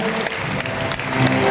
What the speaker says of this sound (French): Applaudis mesdames et messieurs pour les boissons du Cameroun.